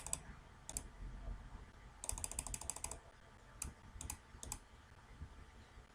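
Mouse buttons click close by in short bursts of sharp taps, some single and some in quick runs of three or four, with quiet room tone between and no speech.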